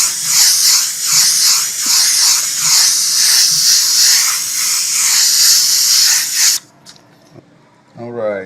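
An airbrush sprays paint onto a blank license plate in a steady airy hiss with faint pulsing, lasting several seconds before cutting off into quiet and a brief low sound.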